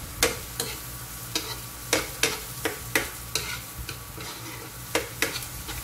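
Ginger fries in a pan under a steady, moderately loud sizzle, punctuated by a series of sharp, evenly spaced taps and scrapes as it is stirred.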